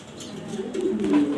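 A young male light-colour Afsan grizzle pigeon coos up close in a loft, a soft, low, rolling coo that swells and ends with a brief rising note.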